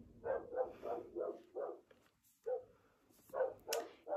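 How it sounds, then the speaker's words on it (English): Dog barking outdoors in a garden, a run of about five steady barks, a pause, then several more, fairly loud and near. "cue the fireworks and the barking dog in the garden"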